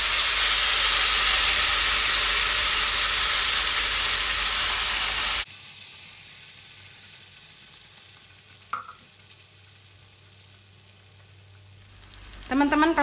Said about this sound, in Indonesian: kemudian cabenya ditumis.